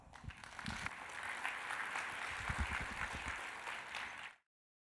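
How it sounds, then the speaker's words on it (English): Audience at a corporate retail-planning case study talk applauds at the close, a steady wash of many hands clapping at moderate distance that holds for about four seconds and then cuts off abruptly. "please a round of applause"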